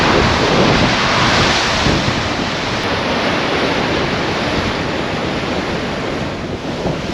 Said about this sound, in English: This will give you an idea of how windy it is here.